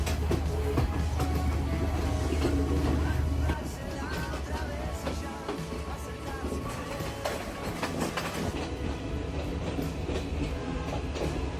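A train runs on rails between Kandy and Ella in Sri Lanka. A steady rumble and rhythmic clatter of wheels is heard from on board, louder at first and then slightly softer, with voices talking over it.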